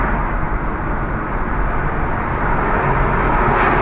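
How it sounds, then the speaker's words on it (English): A loud, steady low roar of a large airplane landing, broad and rumbling, continues throughout with no pauses. "You can hear the sound of the airplane landing."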